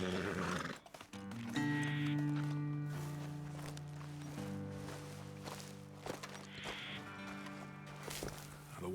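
Horses in the Red Dead Redemption–style western game whinny and shift their hooves as riders dismount, with a snort and clopping steps over a swelling orchestral score, fairly close and moderately loud.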